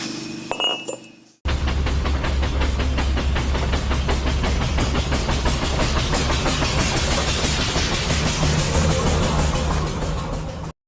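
A slotting machine cuts splines on a gear for a steam engine build, with a continuous loud, rapid clinking and clattering rhythm that starts abruptly after a short quieter moment and runs steadily to the end.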